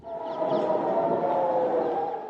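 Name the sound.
air raid sirens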